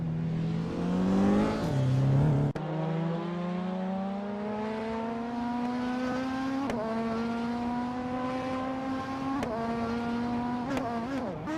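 A racing car engine roars on a track, its pitch climbing steadily through the gears with sharp breaks at each shift, loud and continuous with no talking.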